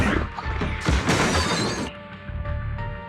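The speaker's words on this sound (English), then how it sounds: "Is that why you smashed me through the TV screen, Sokaku?" Glass TV screen smashed in a Zenless Zone Zero story scene: a loud, dense shattering crash with a sharp impact, breaking debris spilling for about a second before tapering into a lower rumble.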